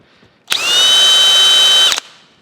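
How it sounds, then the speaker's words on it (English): A countersink bit in a power drill briefly bores into a dowel hole in a wooden drum pattern for a Deere Amazon mill, one loud steady whine of about a second and a half, close up and alone. "I'm going to take a countersink now and just kind of lightly hit each of these"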